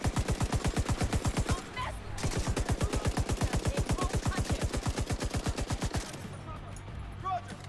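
Rapid automatic gunfire in a video game shootout, two long steady bursts of evenly spaced loud shots separated by a brief pause, close and dominant.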